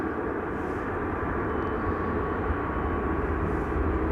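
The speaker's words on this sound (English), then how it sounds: "Now the A319 coming in is the GE-UPS." A General Electric-liveried Airbus A319 arriving at Amsterdam Schiphol makes a steady, loud jet engine roar with a broad rumbling drone that holds constant throughout, with no voices over it.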